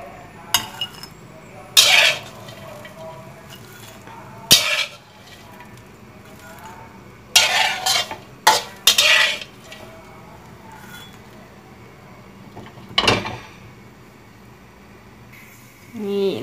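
A utensil scrapes and clinks against a dish several times at scattered moments as cooked chili paste is spooned onto a plate, the taps sharp and close with quiet gaps in between.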